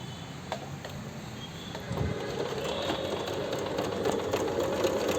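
A Singer Start 1304 sewing machine sews a normal stitch at a low speed setting, giving a soft, steady mechanical whir that runs close but fairly quiet, with no one speaking.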